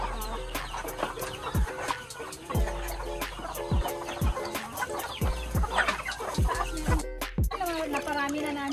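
Chickens cluck steadily on a poultry farm, many birds overlapping at close range, with repeated rhythmic thumps and clatter running underneath.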